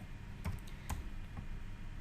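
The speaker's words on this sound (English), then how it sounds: "like I am typing 14th of April" A date is typed on a computer keyboard, producing a few quick, soft key clicks close by over a steady low background hum, with no voices.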